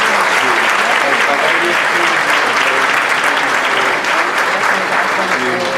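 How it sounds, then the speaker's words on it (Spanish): Loud, sustained applause from a large audience at a Dominican history congress on the seventeenth-century Caribbean, steady and dense throughout with no break. "Me uno a todos los presentes en un fuerte y merecido aplauso a todos"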